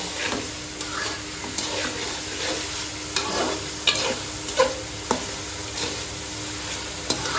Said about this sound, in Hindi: इसको मिक्स करेंगे हम।